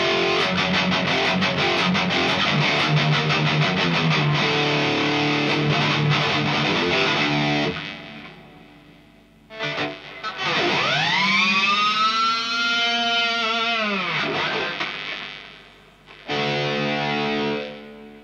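Heavily distorted Dean ML electric guitar through a preset, loud chugging riffs, then a long bending, wailing note with harmonic squeals, a pause and a final burst.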